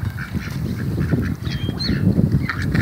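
Ducks being fed bread by people near the water quack and honk repeatedly nearby, a busy overlapping chatter of calls over light outdoor background noise.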